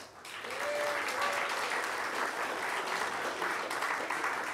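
Applause from a hacker conference audience at a talk on NFC toys, a dense steady wash of clapping that swells quickly and holds at even strength throughout, with a brief faint voice near the start.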